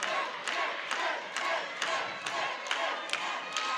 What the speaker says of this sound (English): You can probably hear the crowd on that live feed